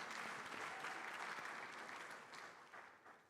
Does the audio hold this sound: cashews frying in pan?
no